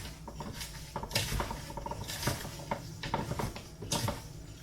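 Apple slices being tossed with caramel apple pie filling ingredients in a bowl, with soft, irregular clinks and wet scraping of a utensil against the bowl, quiet and close with no talking.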